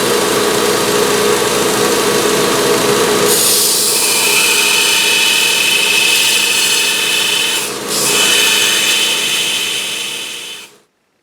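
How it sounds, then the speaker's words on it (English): A grinder shapes the profile of a metal cutter, giving a continuous loud rasping whine that brightens into a high hiss partway through, stops briefly, then resumes before cutting off. "First I need to grind the profile on this cutter."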